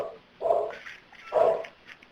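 A pet dog indoors, stirred up by a cat outside the window, gives two loud, spaced barks close by, with a faint yip between them.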